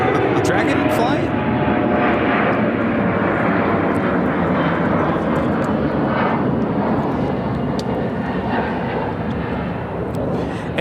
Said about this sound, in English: A350-1000 lining up on 28 right for takeoff to Abu Dhabi, flight 150.